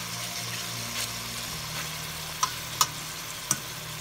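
Pepper steak fries over low heat in a pan after being flipped, giving a steady quiet sizzle with a few sharp clicks and taps of a utensil against the pan.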